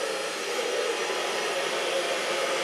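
A hair dryer blows steadily while drying hair for a blue and green mohawk, a constant airy whoosh with no breaks, fairly close and moderately loud.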